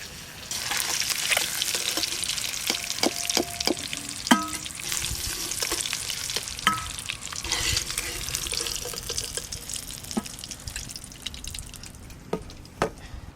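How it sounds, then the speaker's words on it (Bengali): Eggs fry in mustard oil, a continuous sizzle with spatters and intermittent stirring clinks and scrapes close by. "এই যে ডিমগুলো বেশ লাল লাল করে ভালো করে ভাজা হয়ে গেল,"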